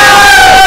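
A crowd at a political gathering in Ghazipur lets out a loud, dense burst of cheering and shouting that fills the whole brief moment.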